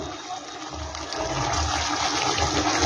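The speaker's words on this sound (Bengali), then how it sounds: "মশলাটা কিন্তু আমার সুন্দর কষানো হয়ে গেছে এবার আমি জল দিয়ে দেব" Water pours steadily and fairly loudly into a pan of well-fried spice paste for a vegetarian mock-fish kofta curry. The rushing splash builds slightly as the pour continues, close up and without speech.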